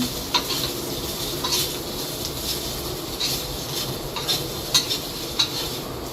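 Chinese sausage fries in a dry pan with no oil, giving a steady, close hiss of sizzling broken by a few light clicks of a utensil stirring against the pan.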